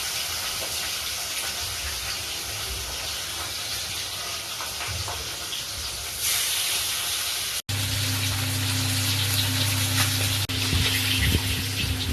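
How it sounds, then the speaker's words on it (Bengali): Fish frying in hot oil in a home kitchen, a continuous loud crackling sizzle that intensifies partway through, with no talking. "তেল গরম হয়ে গেছে এখন মাছটা ভেজে নেবো"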